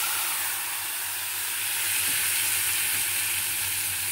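A spiced curry made with turmeric, Kashmiri red chilli and milk powder sizzles in the pan with a steady broad hiss that swells slightly partway through, heard close and without talking.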